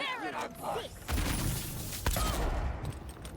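Gunshot headshot in the Avowed video game, two sharp cracking impacts about a second apart cutting through soft game ambience, moderately loud and close.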